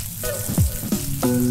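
A salmon and cod fish burger frying in a pan, a close, steady sizzle with short bumps and scrapes as a spatula flips it, no voices.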